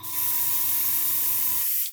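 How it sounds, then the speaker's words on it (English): A Gaahleri Swallowtail airbrush sprays paint in a steady, close hiss of air over a faint compressor hum for almost two seconds, then cuts off abruptly. "So if I want to spray here, I can come along"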